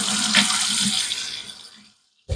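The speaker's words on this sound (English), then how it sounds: "Just getting a little bit more water onto this puck." Tap water runs steadily into a sink to wet a shave soap puck, close and fairly loud, then fades and stops, with a short burst of water again at the very end.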